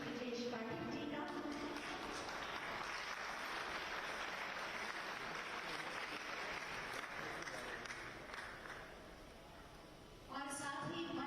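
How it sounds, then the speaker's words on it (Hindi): Audience applause at a welcome ceremony, sustained dense clapping from a crowd that fades slightly toward the end, with a voice speaking briefly at the start and again at the close. "आपकी तालियों का साथ मिलता है।"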